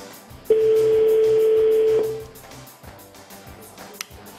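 A single steady telephone ringing tone lasting about a second and a half, fairly loud, followed by quiet background.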